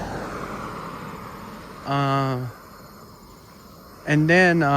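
Night insects in a residential neighbourhood, crickets and katydids including a Japanese burrowing cricket, give a steady faint trill under two loud, clear, tonal calls that each last about half a second, with no voices.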